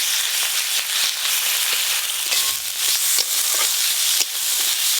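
Potatoes with ginger-cumin paste, turmeric and chili powder sizzle steadily in hot oil, a dense continuous frying crackle with scattered sharper pops and stirring, close and fairly loud.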